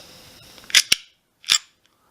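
A few crisp mechanical clacks from a Generation 2 Remington R-51 pistol action being worked close by, a quick pair followed by one more after a pause.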